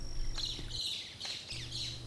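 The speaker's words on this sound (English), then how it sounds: "Two parrots in a conversation sound like a whole schoolroom of kids." Parrots calling in the Costa Rican forest, a series of harsh, squawking calls in quick bursts, fairly close and loud over a low steady background hum.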